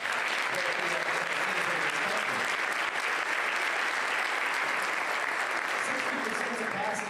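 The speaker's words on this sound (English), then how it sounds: "I'm going to give him a round of applause" A crowd at an Alabama Republican Party political event gives sustained, even applause, a thick continuous roar of clapping with faint voices mixed in beneath it.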